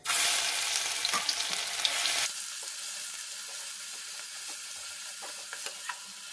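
Garlic and green chillies hit hot oil already seasoned with black cumin, for a flat-bean mash, bursting into a loud, dense sizzle that settles after a couple of seconds into a softer, steady crackle with occasional pops.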